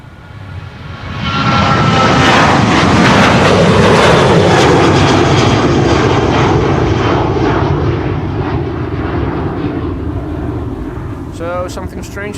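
Jet airliners departing Amsterdam Schiphol's Polderbaan runway 36L on a windy day: a loud, sustained engine roar builds after the first second and holds, with gusty wind buffeting the microphone, fading slightly toward the end.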